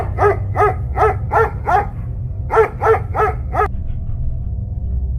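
Dogs bark on a deserted road late at night, around one o'clock: two quick bursts of about four sharp barks each, loud and fairly close, then a low steady hum is left.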